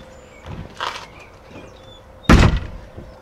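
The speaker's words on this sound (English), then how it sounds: "Or you may end up coming up and just bounce off the door." A person bumps into a worn, latched door, giving one heavy, close thud with a short rattle, preceded by a few lighter knocks and shuffles.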